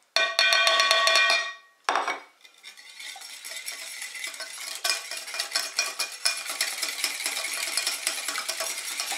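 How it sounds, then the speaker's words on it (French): Fritter batter stirred in a bowl after sugar, salt and baking powder go in. A loud clinking, ringing start gives way to a steady run of close scraping, tapping strokes. "On mélange ensemble."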